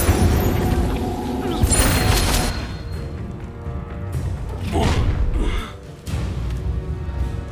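A fire spell blasts out in the game Hogwarts Legacy: a loud, booming whoosh and burst of flame, followed by a couple more heavy thuds and crackling surges over a dense battle soundscape.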